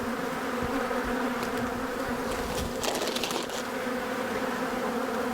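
Honey bees from a defensive, aggressive hive drone in a dense continuous buzz around the opened colony, close and steady throughout, with a few brief louder passes.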